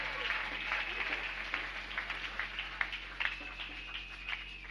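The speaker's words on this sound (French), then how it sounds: "Acclame bien fort pour ton voisin" Church congregation clapping together during a Sunday service, a dense, continuous patter of many hands with scattered sharper claps, steady and moderately loud throughout.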